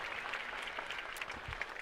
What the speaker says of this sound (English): And a round of applause for 22, Cody Levy.